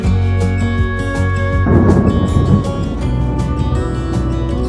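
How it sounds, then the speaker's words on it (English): A deep, loud rumble of thunder rolls in over steady low background noise, swelling midway and then lingering as a broad, grumbling roar. "Don't know if you heard that thunder. It was so loud."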